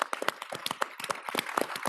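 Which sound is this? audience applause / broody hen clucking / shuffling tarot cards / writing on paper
audience applause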